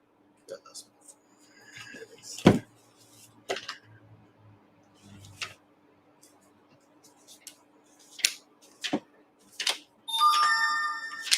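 A mobile phone rings during a Sabbath service in Chicago, a bright repeating melodic tone rising near the end after scattered clicks, knocks and people speaking.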